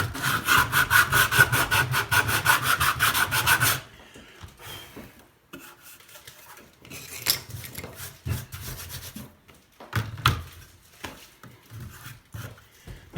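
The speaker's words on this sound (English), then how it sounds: "get a piece of sandpaper and sand off all the extra that you couldn't cut away" Balsa wood is sanded with sandpaper on a big sanding block, first in rapid, loud back-and-forth strokes, then in slower, scattered, softer rubbing passes close to the mic.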